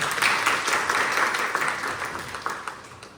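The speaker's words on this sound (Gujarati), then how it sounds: "તાળીઓ." A crowd at a teacher's retirement function claps in dense, sustained applause that gradually tapers off over a few seconds.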